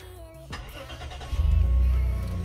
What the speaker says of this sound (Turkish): Arabayı çalıştırıyoruz.